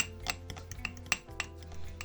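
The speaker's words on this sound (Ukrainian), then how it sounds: "Знову ретельно все змішую." A spoon clinks and scrapes against glass jars while mixing cupcake batter, in a quick irregular series of light taps, close by, with a low steady hum underneath.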